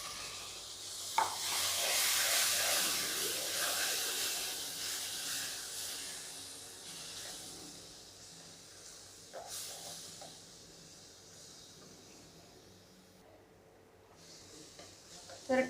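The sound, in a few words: tomato puree sizzling while frying in oil with spices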